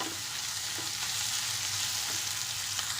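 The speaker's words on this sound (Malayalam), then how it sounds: "വെന്ത് നന്നായിട്ട് അതൊന്ന് വഴന്ന് കിട്ടുന്നത് വരെ നമുക്ക് ഇളക്കിക്കൊണ്ടിരിക്കാം." Tomato sautés in a pan for aloo palak, giving a steady, close hiss of frying with faint scrapes of stirring spread through the whole stretch and no voices.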